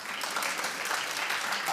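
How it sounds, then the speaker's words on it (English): A studio audience at a late-night comedy show claps in a short, even burst of applause heard at moderate distance. "Clap if you did."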